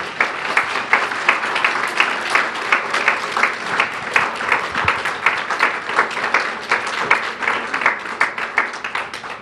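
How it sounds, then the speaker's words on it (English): Audience at a program's final session applauding committee members and volunteers, loud, close clapping with distinct individual claps in a fairly regular rhythm, sustained for several seconds. "And I'd like to give them all a round of applause if we can."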